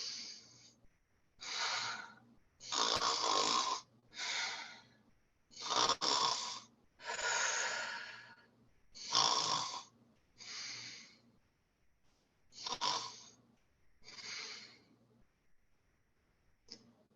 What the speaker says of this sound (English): you can stop the snoring